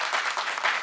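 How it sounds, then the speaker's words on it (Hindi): Audience applause at a comic Hindi poetry gathering, a brief dense wash of clapping from a crowd, steady and fairly loud. "एक बार जोरदार तालियां बजाओ"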